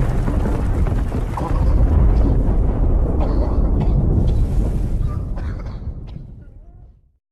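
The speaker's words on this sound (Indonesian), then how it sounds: "Akibat ledakan itu" A landmine blast in a war film sounds as a huge, sustained low roar that rumbles heavily for several seconds before fading out to silence.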